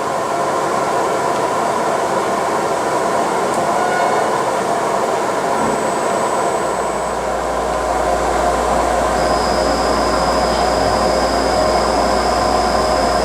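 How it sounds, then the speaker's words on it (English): Spindle of a Vangaurd CAK50186DI flat bed CNC lathe running at a steady low speed, a continuous dense mechanical hum joined midway by a low drone and later a thin high whine, with no talk. "So this is 40 RPM on the Vangaurd CNC lathe"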